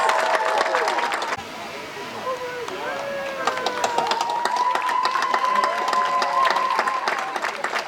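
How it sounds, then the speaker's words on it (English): Audience applause for the graduating class of 2025 at a school graduation ceremony, dense and continuous, with cheering and whoops rising over the clapping and voices mingled in. "Let's give them a round of applause."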